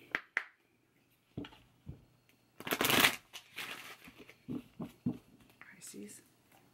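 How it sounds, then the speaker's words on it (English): Angel cards being shuffled by hand in a few quick riffling bursts, the loudest near the middle, close and fairly faint, with soft whispered speech between the shuffles. "Let's pull an angel card."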